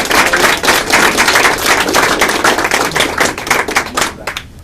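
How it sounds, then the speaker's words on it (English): A dense round of applause fills an awards ceremony for soldiers, many hands clapping steadily and close for about four seconds before tapering off at the end. "Let's give them a round of applause."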